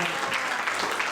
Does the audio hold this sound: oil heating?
no